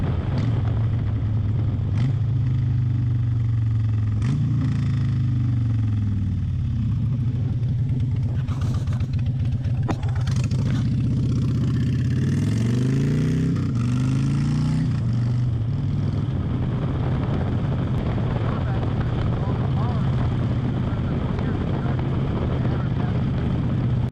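A motorcycle rides through town with a loud, continuous engine note that repeatedly revs up and drops back as it runs through the gears.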